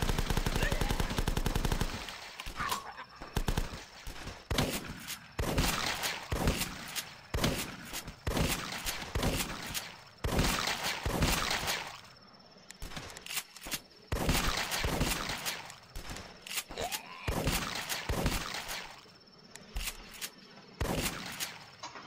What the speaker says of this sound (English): I definitely need a better machine gun than this.